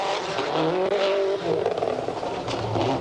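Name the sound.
rally car racing on course at X-Games stadium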